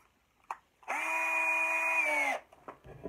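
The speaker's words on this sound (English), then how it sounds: "The last thing I'll do is take my drill" A power drill bores a hole through an axe head for a spring pin when hanging an axe: one steady, high whine of about a second and a half, close by, dropping in pitch as it bites before cutting off.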